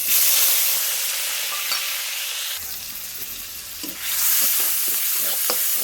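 Onion and garlic paste sizzles loudly in hot oil in a kadai, with a steady frying hiss broken by bursts of stirring and spoon scrapes.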